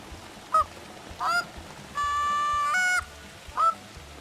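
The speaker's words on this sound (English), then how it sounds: "Can I hear some geese in the distance?" Geese honking in the distance on a savanna in the game theHunter: Call of the Wild, with a few short clear honks and one longer drawn-out call, spaced apart over quiet background.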